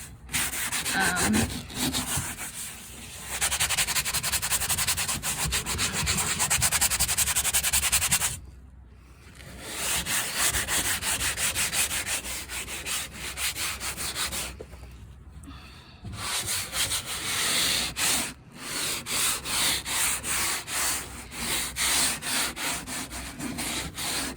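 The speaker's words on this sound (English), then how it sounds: "I'm just trying to scrub this as best I can." Someone scrubs the interior of a 1983 C30 with a steady, close rubbing and scraping that runs continuously, broken by a few brief pauses.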